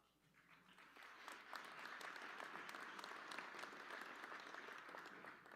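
An audience at a college commencement ceremony applauds as the college president comes to the stage, the clapping swelling quickly and then holding as a broad, steady roar from a large hall.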